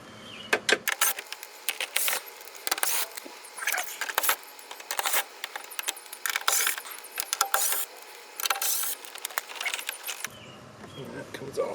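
Close, rapid ratchet clicks in repeated bursts as bolts holding the plastic under tray are removed beneath a 2026 BMW G82 M4 Competition, loud and mechanical with short pauses between runs.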